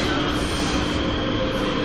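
Prague subway train riding along, a steady loud rumble of wheels on rails with continuous car noise and faint squealing throughout, no voices.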